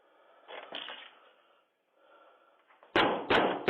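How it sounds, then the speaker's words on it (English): A man hitting a door and wall, caught by a doorbell camera: a few muffled thuds at first, then several sharp, loud slams and bangs close together near the end. "That's how many times this man just hit the door and wall."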